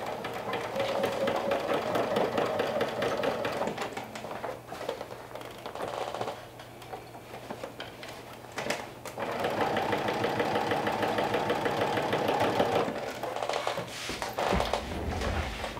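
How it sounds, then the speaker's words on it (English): A sewing machine runs steadily while top stitching a bucket hat, a close, rapid mechanical hum and needle clatter that pauses briefly midway and then resumes. "So it's just a few inches that we're top stitching now."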